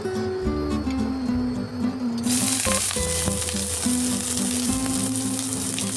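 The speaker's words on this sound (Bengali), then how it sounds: "এর মধ্যে তেল গরম হয়ে গেছে, এর মধ্যে এবার পেঁয়াজটা আমি দিয়ে দেবো" Onion frying in hot oil for beetroot cutlets, a continuous loud sizzle, with a steady mechanical hum and tonal drone beneath it and a sharp burst of hiss as the onion drops in partway through.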